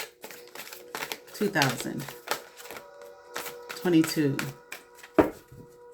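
Tarot cards being shuffled in a hand-held deck, producing bursts of quick, crisp riffling and flicking clicks with short pauses, under a voice talking.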